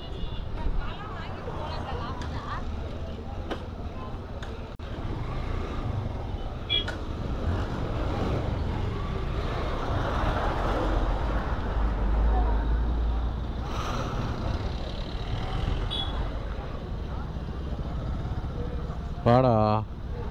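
Busy road traffic heard from a motorcycle on a ride to Poombuhar, with a steady engine and wind roar, passing vehicles and brief horn toots, while someone talks intermittently over the noise.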